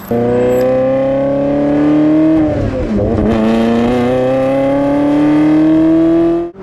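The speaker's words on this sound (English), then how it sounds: "Let's talk about that exhaust." A Ferrari 360 Modena's exhaust revs loudly and steadily, the engine pitch climbing, dipping briefly, then rising again in a smooth, sustained roar.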